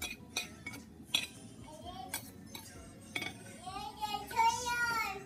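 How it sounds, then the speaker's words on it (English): A utensil stirs sage, fennel seeds and other sausage seasonings in a pot, making sharp scattered clinks and scrapes against the metal, with people talking quietly throughout. "She's stirring the seasonings all together."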